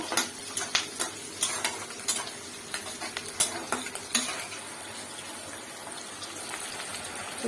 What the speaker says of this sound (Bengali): এখানে পোলাও রান্না হচ্ছে দিয়ে দিলাম একটু এলাচি আর দারচিনি